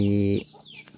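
A single loud, harmonic chicken call sounds close by from a backyard flock of red and white hens, then fades to quiet farmyard background.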